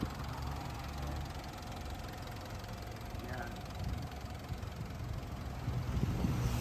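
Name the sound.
SUV diesel engine idling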